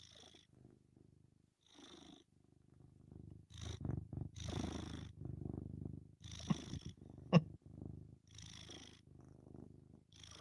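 A fluffy cat purrs close up in a low, steady rumble with rhythmic breathing pulses and a couple of louder bursts, alone without talk.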